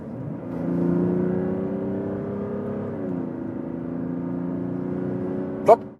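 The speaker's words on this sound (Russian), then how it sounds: "Разгон по трассе от 80 до 120 км в час в спортивном режиме." Mazda CX-60 with a 3.3-litre inline-six and all-wheel drive accelerating from 80 to 120 km/h on a highway in sport mode: a steady, even engine drone that holds close and loud throughout, with a short sharp knock near the end.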